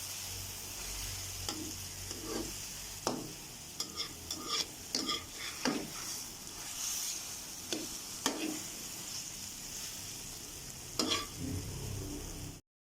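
Bananas and eggs fry in butter in a pan, a soft continuous sizzle broken by repeated scraping and stirring clicks from a utensil against the pan, close and moderately loud.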